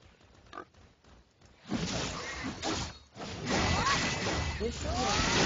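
Grunting, oinking pig sounds in the game Raiderz, mixed with whooshes and impacts, fairly loud and busy after a quiet start.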